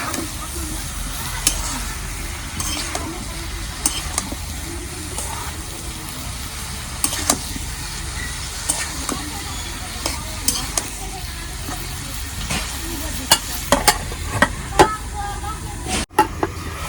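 Red radish is being stir-fried in spices for a fish curry, giving a continuous moderate sizzle broken by frequent sharp clicks and scrapes of stirring.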